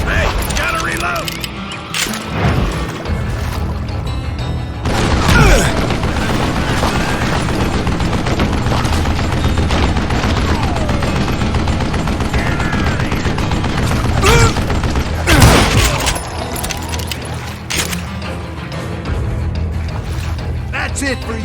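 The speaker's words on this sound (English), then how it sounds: "those men that were shooting at me" Western-style gunfire rings out in Call of Juarez Gunslinger, with loud, sharp shots in bursts and reload clicks over dense battle noise, and occasional voices underneath.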